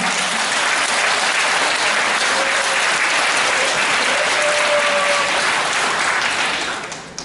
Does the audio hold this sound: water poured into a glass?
no